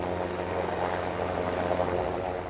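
French Air Force Super Puma rescue helicopter operating over Corsica, a loud, steady rotor and turbine drone with a constant low throb that holds evenly throughout.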